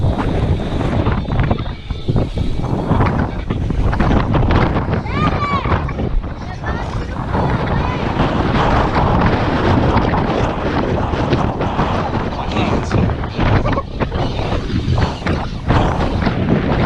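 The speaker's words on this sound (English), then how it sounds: "It's 50, but it's fucking windy as shit. It's like cutting wind." Strong, cold wind buffets the microphone outdoors on a 50-degree day in a constant loud roar, with a voice speaking intermittently over the gusts.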